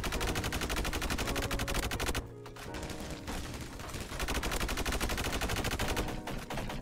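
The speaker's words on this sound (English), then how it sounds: "I think that the honey badger might be my favorite gun" Rapid automatic fire from a Honey Badger gun in Roblox Energy Assault, loud sustained bursts with a brief lull in the middle before shooting picks up again.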